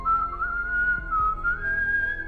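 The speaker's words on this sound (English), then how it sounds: "During this, he hears whistling sounds." Steady, sustained whistling with slight pitch wavers, held alone at a moderate level over a low background hum, set amid a bleak post-apocalyptic scene.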